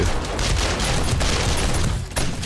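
Rapid bursts of automated turret gunfire in the survival game 7 Days To Die, loud and continuous with dense overlapping shots and a brief lull near the end.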